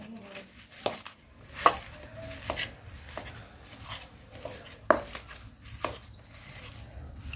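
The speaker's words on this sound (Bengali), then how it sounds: "মা একটা বড় বাটি নিয়ে নিয়েছে, তার মধ্যে এই যে এঁচড় আলু সব সেদ্ধ করে রাখা সেগুলো সব নিয়ে নিল। এটা দিয়ে ম্যাশ করে নিই।" Boiled green jackfruit and potatoes are mashed in a big bowl, giving irregular soft thuds and occasional utensil clinks against the bowl, close by, with no talking.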